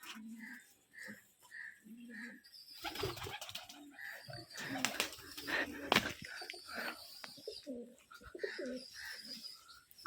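Rajshahi giribaj pigeons cooing in a loft, a repeated soft low coo rising and falling close by, with a burst of wing flapping and shuffling noise midway.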